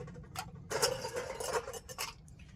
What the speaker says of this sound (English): So now let's put some ice in our shaker.